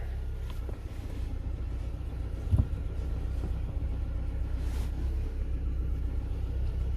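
A 2012 Kia Soul engine idles roughly after a fuel pump replacement, a low steady rumble with one brief thump partway through and no voices.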